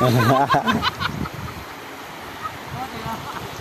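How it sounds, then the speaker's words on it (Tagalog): People talk briefly over a steady wash of ocean surf and wind, the waves rumbling on after the voices fade. "Ang laki ng alon."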